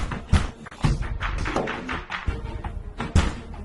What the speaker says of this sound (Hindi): मैं दरवाजा तोड़ दूंगा।